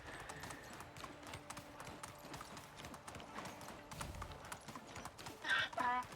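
Donkey hooves clip-clop in a steady rhythm as the animal is ridden in the medieval survival game Medieval Dynasty, with brief louder scuffs near the end.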